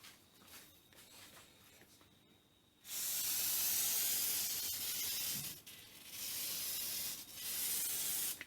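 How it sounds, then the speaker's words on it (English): Bursts of WD-40 aerosol spray hiss loudly up close, three separate sprays with short pauses, after quiet rubbing of abrasive paper at the start. "maybe spray some WD-40 on it just to clean the paper up a bit as I go"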